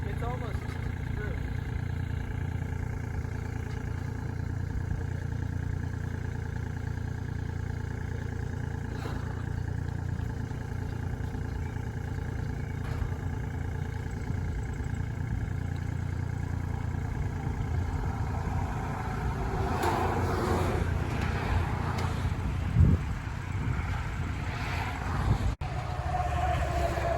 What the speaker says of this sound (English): You go straight back with the tractor.